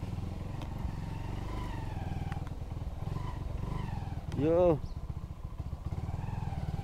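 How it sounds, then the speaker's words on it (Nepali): A motorbike engine putters steadily during a ride, with a brief louder surge in the middle. A rider speaks briefly over the close engine noise. "कस्तो आवाज त बाइकको आउँछ"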